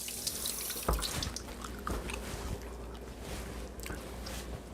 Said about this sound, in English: get my hand washed